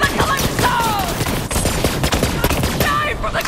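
Rapid bursts of gunfire in the shooter game Borderlands 3, loud and dense, continuous volleys of shots filling the scene with faint voices underneath.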